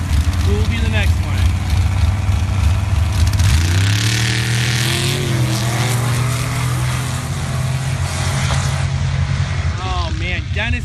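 Turbocharged Jeep bracket racing at a drag strip, engine droning loud and steady with rising revving sweeps as the car launches, under crowd and announcer commentary.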